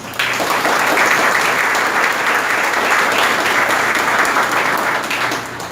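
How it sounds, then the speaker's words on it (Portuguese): Dense, steady applause from an audience at a spiritual lecture fills the whole stretch, loud and close, fading slightly at the very end with no talk over it. "uma salva de palmas"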